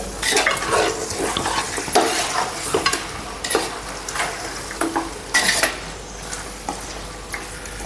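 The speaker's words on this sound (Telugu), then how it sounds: "ఈ విధంగా ముక్కల్ని బాగా మంచిగా కలుపుకుంటే మసాలా అంతా బాగా పట్టుద్ది." Chicken pieces are stirred and mixed with masala in a pot for village-style Andhra chicken biryani. Close, irregular scraping and clattering strokes of a spoon against metal come over a faint sizzle, with no talk.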